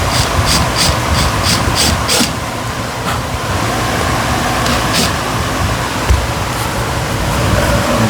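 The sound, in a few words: power drill drilling into wood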